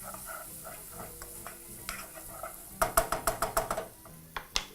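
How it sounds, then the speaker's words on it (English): Butter melts and sizzles in a pan for bacon-wrapped beef, under a low crackle, then a run of quick, clacking wooden-spoon strokes against the pan, a rhythmic burst of about eight knocks followed by a couple more. "mix that together in your pan and continue to saute right up until your butter is completely melted in"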